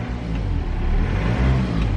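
A BMW engine revving just after a turbo rebuild, a loud close mid-pitched roar that rises and holds steadily for a couple of seconds, with no talking over it.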